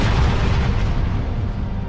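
A huge helicarrier crashes down in an animated superhero film, producing a loud, sustained booming explosion with a dense roar that fills the whole moment and slowly tails off, with no voices over it.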